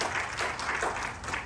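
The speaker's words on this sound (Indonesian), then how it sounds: "Beri tepuk tangan yang meriah berilah kita." A church congregation claps in a short, fairly loud round of applause with a loose, pulsing rhythm of hand claps.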